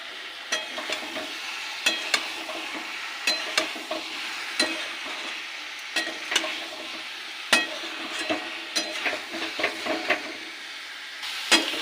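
Ingredients sautéed with sugar in a pan give a soft continuous sizzle broken by repeated sharp scraping and clacking strokes of a spatula, close and fairly loud, with no talking.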